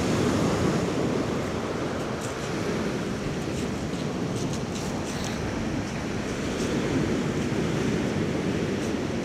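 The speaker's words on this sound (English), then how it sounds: "Yeah, some mighty big waves." Big stormy sea waves break and roll onto a Dorset beach at Eype, a continuous loud roaring wash of surf with wind buffeting the microphone.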